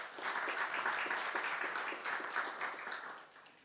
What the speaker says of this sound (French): je voudrais d'ailleurs qu'on applaudisse